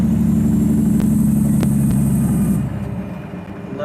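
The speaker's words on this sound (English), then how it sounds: "it's just a cool old truck" An old truck engine runs steadily at a low idle, a loud continuous rumble close by that fades slightly near the end, with a few faint clicks over it.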